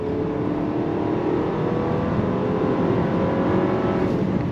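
A 2026 Buick Enclave Avenir SUV with a 2.5-liter turbocharged inline-four and 8-speed transmission accelerates uphill, giving a steady, continuous engine drone with road and wind noise heard from inside the cabin, with no talking.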